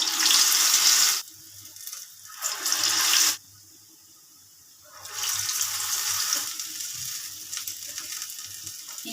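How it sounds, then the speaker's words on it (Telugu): Minapa garelu, urad dal fritters, dropped into hot oil in a small pan, giving a loud, close, hissing sizzle that comes in bursts separated by short quiet gaps. "ఇప్పుడు మన ఆయిల్ బాగా హీట్ ఎక్కిందండి. ఈ విధంగా గారెలు చేసుకొని నూనెలో వేసేసుకో."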